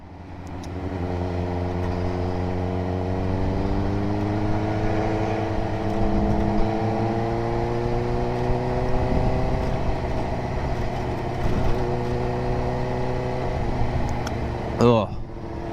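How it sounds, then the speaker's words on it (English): Engine of an Ultima sports car heard from nearby, a steady droning tone that climbs and falls in pitch as it works through the gears, then a sharp burst near the end, with people talking over it. "I can hear him downshifting."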